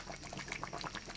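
Coconut milk with tilapia and pechay simmers in a pot, giving a soft, steady bubbling and popping that stays close and continuous for just over a second.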